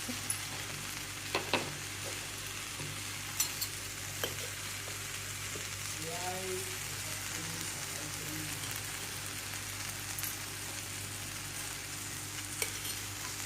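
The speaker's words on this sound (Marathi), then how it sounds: "आणि छान असं परतून घ्यायचं." Vegetables and rice sautéing in a pot give a continuous, even frying sizzle throughout, broken by a few sharp clicks of a spoon against the pot, close up with no talk.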